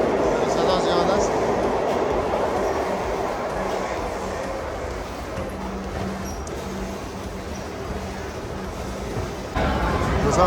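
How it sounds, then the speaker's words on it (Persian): Madrid metro train in a busy station: a loud, continuous rumble and rattle of rolling carriages with a faint squeal and background crowd babble, with a voice talking over it. "هم متروهای شهر مادرید"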